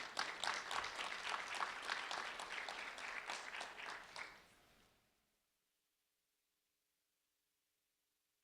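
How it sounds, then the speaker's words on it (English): An audience applauds a 5th grade student called up to the front at a public ceremony, with dense, steady clapping that fades out after a few seconds, followed by silence. "a round of applause for Makaila."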